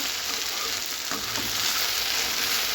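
Okra (vendaikkai) sautés in a pan for a Tamil stir-fry, giving a loud continuous sizzle close up, with a short scrape of stirring partway through.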